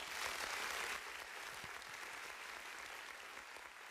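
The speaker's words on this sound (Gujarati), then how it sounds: "ફરી એકવાર કેતનભાઈને આપણે જોરદાર તાળીઓથી વધાવી લો." Applause from a crowd at a community gathering, a dense, steady wash of many hands clapping, slightly stronger at the start and continuing evenly, fairly faint and distant.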